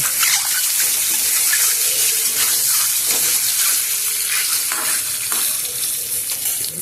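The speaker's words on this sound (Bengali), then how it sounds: "ডিমগুলো আমি একটু লাল লাল করে ভেজে নেব।" Duck eggs fry in hot mustard oil with turmeric, a loud, dense, continuous sizzle close by, with occasional spatula scrapes and crackles, no talking.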